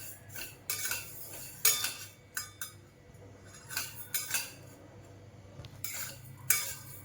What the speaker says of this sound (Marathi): आपण आता हे भाजून घेऊया एकदम हलकं हलकं भाजायचं आहे